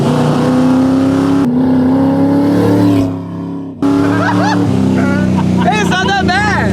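An old car engine hums as it drives, loud and close. The note drops away briefly partway through, then returns. Excited voices talk and exclaim over the engine.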